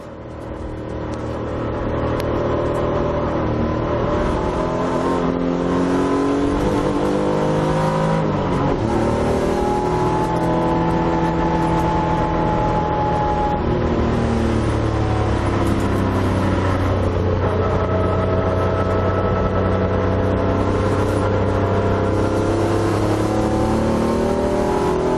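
Loud engine noise fills the cabin of a vehicle being driven, a continuous heavy drone whose pitch rises and falls with the revs throughout, with no voices.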